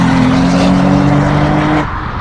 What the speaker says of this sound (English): right now they're doing their warm-up laps